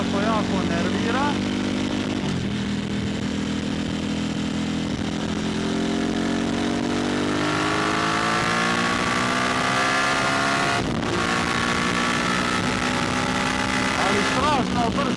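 A 2022 Harley-Davidson Pan America motorcycle engine runs loud and steady up close, its pitch climbing and falling through gear changes, with wind noise riding over the drone.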